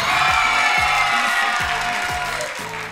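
Sustained applause and cheering from a studio audience at a Saturday variety show, a loud, dense wash of clapping and shouts that fades slightly toward the end.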